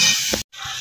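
Onion, tomato and spice tadka sizzling in a pan for macaroni, a steady close hiss that drops out briefly to silence before resuming.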